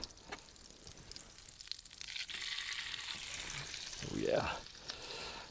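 Pheasant breast chunks fry in butter on a Blackstone griddle, a soft steady sizzle with occasional scraping and stirring, ending with a brief swelling burst.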